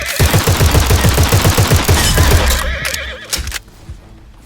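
Cavalry horses in the war video game Glory Front Line charge with rapid rhythmic hoofbeats and a loud whinny, then the galloping thins out into a few sharp cracks like gunfire before fading to quiet.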